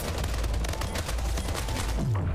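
An automatic rifle fires in the sci-fi shooter Splitgate, a dense, rapid stream of shots with a heavy low thump, continuous and loud, ending in a brief falling whoosh.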